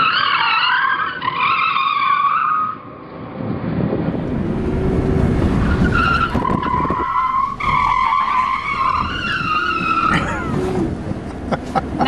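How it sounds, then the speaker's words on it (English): A car skids and loses traction on a skid pad during a driving exercise, with long wavering tire squeals rising and falling over steady engine roar for about twelve seconds. "Now that is me not properly recovering my skid"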